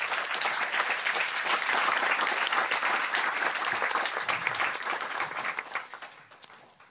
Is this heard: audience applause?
yes